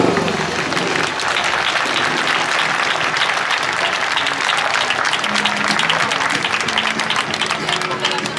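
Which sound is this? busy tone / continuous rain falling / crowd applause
crowd applause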